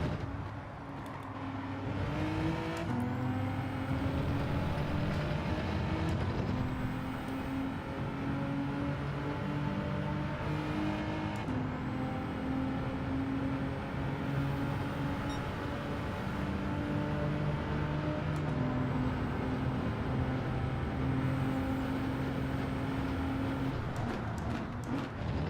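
A Lamborghini engine droning steadily in Gran Turismo 7, holding a sustained hum that shifts pitch at several gear changes over about twenty-five seconds, with no talking.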